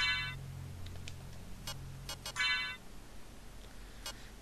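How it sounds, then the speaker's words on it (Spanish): A phone ringtone rings in two short electronic bursts with a gap between, heard over background music from Castlevania: Symphony of the Night, with faint clicks in between and no talk. "Nuestro teléfono de mierda que suena."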